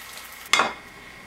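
French toast in a frying pan gives a single brief sizzling hiss, likely from the bread being moved or turned, against quiet background with no talk.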